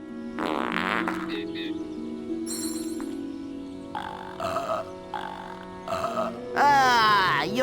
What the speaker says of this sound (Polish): pierdnę ci.